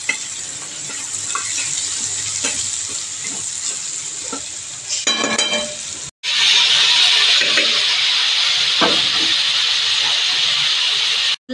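Garlic and green chili paste fries in a pan, hissing and sizzling steadily up close, with stirring scrapes and a short clatter midway before the loud sizzle resumes.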